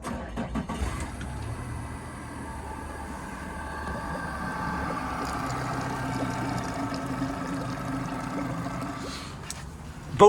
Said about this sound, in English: You almost wouldn't hear it running there at idle.